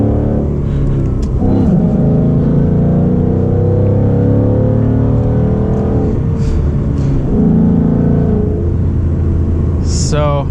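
A tuned 2019 Ford Mustang GT with a manual gearbox accelerates hard, its loud engine rumble rising steadily and dipping through quick gear shifts, with someone talking over the engine throughout.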